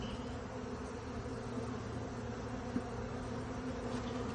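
A honeybee swarm clustered near a hive frame drones with a continuous, even buzz, close and steady throughout, with one faint tap partway through.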